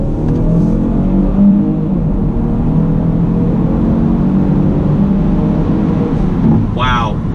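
A 2019 Genesis G70 3.3T with an 8-speed automatic accelerates on the road, giving a loud, steady engine rumble heard from inside the cabin throughout.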